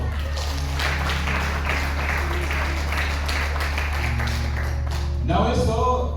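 Congregation in a church applauding together, a steady dense clapping over a low hum, continuing at even strength before fading into a brief voice near the end.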